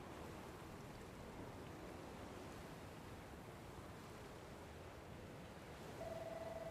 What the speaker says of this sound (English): The water's flowing right over the cliff.